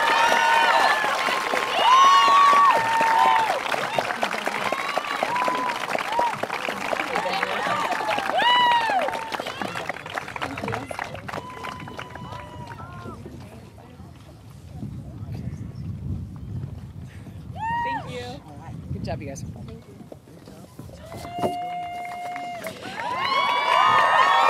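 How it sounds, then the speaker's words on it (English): A graduation crowd at Los Altos High School breaks into loud applause and cheering with scattered shouts and whistles for award winners, the noise swelling, easing midway, then rising again. "Would you please join me in another round of applause for our 2019"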